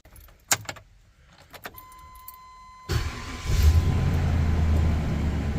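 A 2000 Chevrolet Express van with a 4L80E transmission: after a few clicks and a jingle of keys, the engine cranks and catches at once, then settles into a steady, loud idle that runs to the end.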